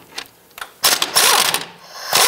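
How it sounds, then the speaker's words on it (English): An 18 mm socket ratchets on the nut of a sway bar end link on a 2008-2013 Nissan Rogue, heard as a couple of faint clicks followed by a burst of rapid, loud clicking ratchet strokes up close. "We're going to use our 18 millimeter socket on the nut side."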